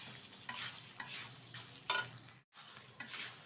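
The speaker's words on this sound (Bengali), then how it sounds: "এবার চালটাও ডালের সাথে খুব সুন্দরভাবে ভেজে নেব।" Rice and lentils frying together in a pan for khichuri, a soft hiss broken by quick scraping strokes of a spoon about every half second, close and moderately quiet.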